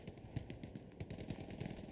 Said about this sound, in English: Machine gun is putting in that work.